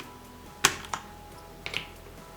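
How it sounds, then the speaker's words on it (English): Keycaps pulled by hand off an Ozone Strike Battle mechanical keyboard: a sharp plastic snap, a softer click shortly after, then a quick double click a second later, close and crisp with no talking. "So first we have to take off the 2 directional keys over here."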